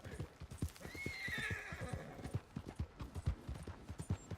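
A horse in the video game Red Dead Online clops along in a steady rhythmic hoofbeat while letting out a drawn-out whinny early on, fairly close and alone.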